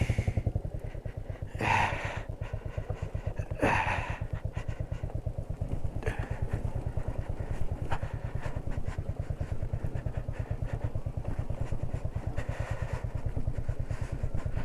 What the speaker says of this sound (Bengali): স্লিপ কাটছে বাইক, টানছে পেছন